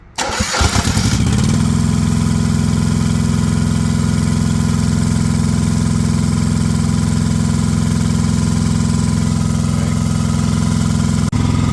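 A green auxiliary power unit cranks over and catches, then settles into a loud, steady idle with a constant low drone and whine that runs unbroken to the end, no voices over it.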